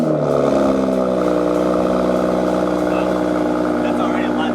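A Toyota Supra engine with an aftermarket AWE exhaust idles at first startup with a deep, rumbling exhaust tone, steady and loud throughout, with a slight clattering texture.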